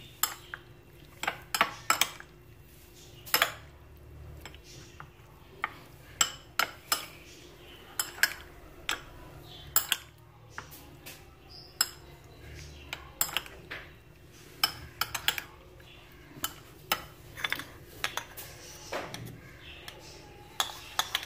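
Chicken being mixed with black pepper in a dish, with repeated clinks and scrapes of a utensil against the bowl at an irregular rhythm, fairly close and quiet, without talk.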